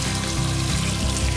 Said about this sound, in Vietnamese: các bạn xả nước và rửa qua.